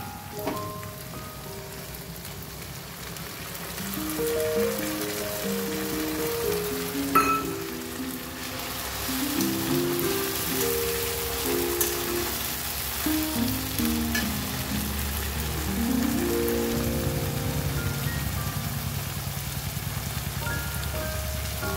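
Ground spices in a pan hiss and sizzle steadily after a splash of water goes in, a continuous close frying crackle that holds for the whole stretch with no voices.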